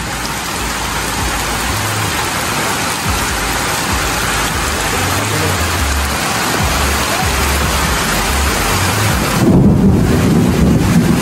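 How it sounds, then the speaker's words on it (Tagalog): Heavy, steady thunderstorm rain pours loudly with a low thunder rumble underneath, and a rushing gust near the end; no voices. "naulan! Wala ng tao! Ang lakas ng kidlat!"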